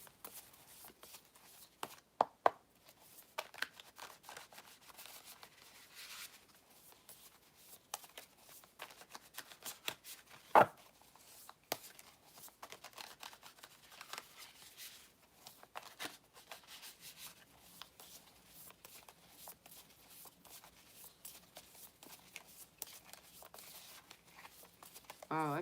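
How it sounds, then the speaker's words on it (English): Soft, repeated riffling and rubbing of a tarot deck being shuffled, quiet and close, with occasional sharper flicks and pauses throughout. "I feel like I need to shuffle these a lot"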